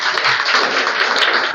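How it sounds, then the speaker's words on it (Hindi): An audience claps loudly on request at an education talk, a dense, even patter of many hands that lasts steadily throughout. "आप लोग एक बार जोर से तालियां बजा दें"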